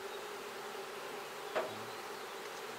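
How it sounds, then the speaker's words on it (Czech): Honey bees from a strong colony hum in a steady, soft drone over an opened beehive, with one brief knock partway through and no talking. "A tohle jsou včely."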